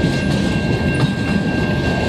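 A CN mixed freight train rolls past at sunset in Montreal, a steady close rumble of wheels and cars with faint clickety-clack, continuous and loud throughout with no talking.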